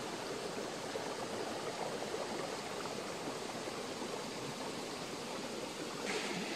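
A forest stream flows steadily over stones, a dense, continuous rushing and gurgling that stays loud and even throughout with no voices.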